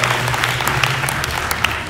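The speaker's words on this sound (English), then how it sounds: "So give yourself some applause first." Audience applause at a motivational stage event, dense, loud, continuous clapping from a crowd, close and filling the whole short stretch without talk.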